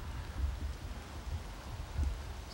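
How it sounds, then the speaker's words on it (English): Steady rain falls through a short 1990s camcorder-style outdoor recording, heard as a continuous soft hiss with low rumbling gusts, fairly quiet and unbroken, with no talking. "See, it's raining now."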